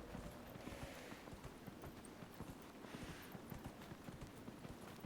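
A horse's hooves clip-clop in the video game Dragon Age: Inquisition, a steady, even walking rhythm of quiet hoofbeats with no talking over them.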